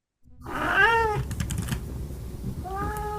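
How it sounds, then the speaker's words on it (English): An orange cat lets out a clear, drawn-out meow, then a brief pause with faint clicking, before starting another meow at the end. "That's a good orange cat."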